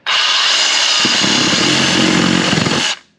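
A Sawzall reciprocating saw, fitted with the wrong blade, cuts through a car's air intake on a sixth-generation Camaro, giving a loud, continuous buzzing drone that stops abruptly after about three seconds.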